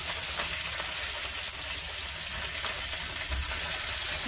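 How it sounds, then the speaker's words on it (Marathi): Mustard seeds, cumin and curry leaves sizzling in hot oil in a pan: a steady, bright crackling hiss, close and continuous, with faint pops scattered throughout. "याच्यामध्ये तेल टाकते, अर्धा चमच राई आणि अर्धा चमच जिरं घेतलेलं आहे। याच्यामध्ये कढीपत्ता टाकत आहे"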